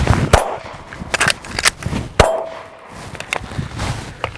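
Handgun shots fired in a slide-release versus slide-racking reload drill: a few sharp, loud reports spaced apart, with metallic clicks and handling noise from the reload between them, close by and without speech.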